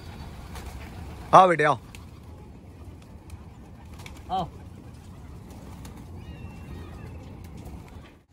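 Hyderabadi pigeons cooing in a loft, soft low coos throughout, with a man calling to them, a brief loud burst of voice and a second shorter one.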